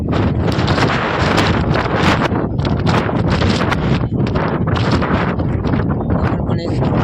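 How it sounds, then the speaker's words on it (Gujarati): Strong wind buffets the microphone on a third-floor rooftop, a loud, continuous roar with gusty surges throughout and no letup. "મસ્ત મજાનો પવન પણ છે"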